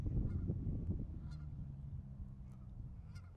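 A single goose honks faintly in the distance, a few thin, spaced calls rising over a low outdoor rumble.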